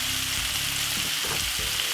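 Cabbage and saltfish sizzling hard in a hot frying pan, a loud continuous hiss with a few dull scrapes and knocks of the spoon as the mix is stirred; no voices.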